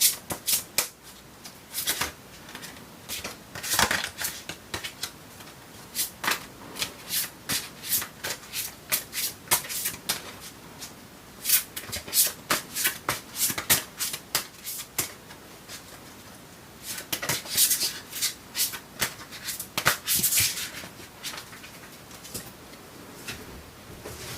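Tarot cards are shuffled by hand in quick, repeated riffling bursts, each flurry rapid and crisp at close range, continuing steadily with short gaps between bursts and no voice.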